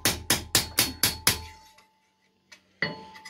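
Six sharp hammer blows ring out in steady rhythm as 3 mm sheet steel is cold forged for a coat-of-arms shield, each strike a bright metallic clang that decays quickly, followed by a pause, a faint tap and one more hit.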